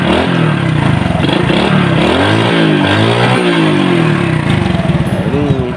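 A fully stock Suzuki Astrea Legenda motorcycle, washed and cold after sitting unused since morning, starts up loud and close, its engine note rising and falling through several uneven revs as it struggles to settle.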